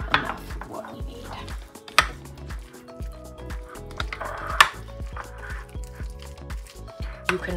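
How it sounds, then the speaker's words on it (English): Chicken lettuce wrap filling stirred with sauce in a pan, with close, irregular scraping and clinking of a utensil against cookware and occasional wet squishy sounds. "stir everything together, and we'll see if we have enough of what we need."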